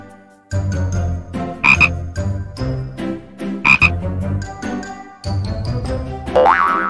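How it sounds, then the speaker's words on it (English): A cartoon frog croaks in a kids' alphabet vocabulary lesson, with several loud, springy croaks and boing-like bounces in quick bursts, separated by short pauses, and a rising twang near the end. "F for Frog."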